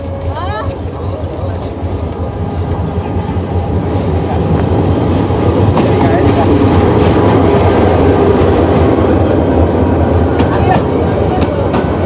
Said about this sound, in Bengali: দেখতেই পাচ্ছেন আমাদের ভৈরব যাওয়ার ট্রেনটি চলে আসছে